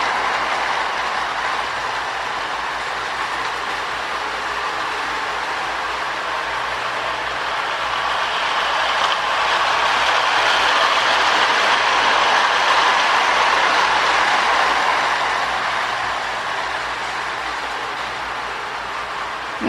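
A rebuilt Marx Commodore Vanderbilt toy train with a pre-war motor runs on its track, giving a steady, close whirring clatter that swells slightly midway and continues without pause.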